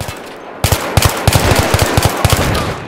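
An M16A3 rifle fires in Battlefield 3 on the Seine Crossing map, loud close bursts of rapid shots with punchy low thumps in an uneven rhythm after a short quiet start.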